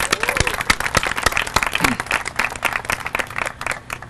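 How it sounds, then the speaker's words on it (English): Applause from a gathered crowd at a Houston community event, many hands clapping in a steady, somewhat sparse rhythm, with scattered voices and loud individual claps standing out nearby. "Let's give everyone here a big round of applause."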